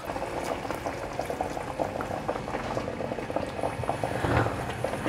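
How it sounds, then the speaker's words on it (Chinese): Tofu and softened glass noodles simmering in seasoned broth over medium-low heat, a steady close bubbling boil with constant small pops and gurgles. "慢慢的炖煮，大约炖煮了10分钟左右"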